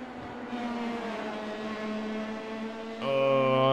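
Pro Mazda Championship race cars at Zolder in Belgium, engines droning steadily at high revs, then one car roars louder and closer near the end.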